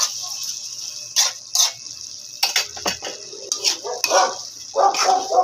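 Several short, sharp dog barks come in irregular bursts over a quiet background with faint ticking, fairly close.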